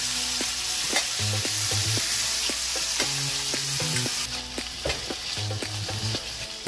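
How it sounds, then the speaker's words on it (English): Scallops and bacon fry in a hot pan with a steady, loud sizzle that runs the whole time, broken by scattered pops and crackles of spattering fat. "Listen to that sizzle there."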